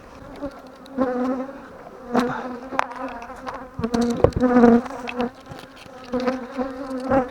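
Honeybees from hungry swarm colonies buzz close around opened hives, their drone swelling and fading in loud bursts as the insects grow more aggressive.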